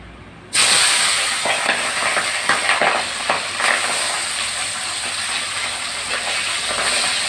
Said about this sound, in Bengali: আমি প্রথমে মাছটা ভেজে নেবো তেল গরম হয়ে গিয়েছে